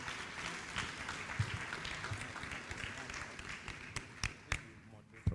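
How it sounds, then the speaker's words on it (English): Audience applause at a live-streamed event, a spread of clapping from a crowd that thins out into a few sharp, scattered claps, faint and somewhat distant with talk mixed in. "Let's give Uncle Felicia Phillips a round of applause."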